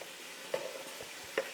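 A mix of lime juice, cumin and salt gets a quick stir, giving a few faint scraping and clinking touches of a utensil against a bowl, two slightly sharper taps standing out in a quiet room.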